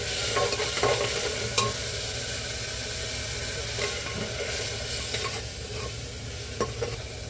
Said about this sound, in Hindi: प्याज टिंडा जो भूले थे इसको हम तो भून लेंगे अच्छे से।